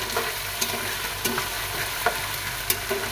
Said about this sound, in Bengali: আদা রসুন পেস্টটা একটু ভেজে নেই